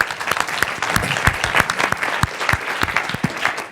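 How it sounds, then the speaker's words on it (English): An audience at a webinar-style event claps in a sustained burst of applause, dense overlapping hand claps holding steady for several seconds with no talk over them. "Give a round of applause."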